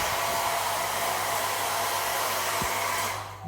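A hair dryer in a hotel room in Agadir blows with a steady, loud whooshing whir close by, then cuts off abruptly at the end.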